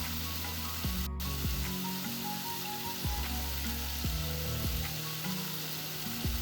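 Roasted jeera powder and turmeric frying in a pan for paneer butter masala, a steady soft sizzle with repeated scraping stirs roughly once a second, no voices.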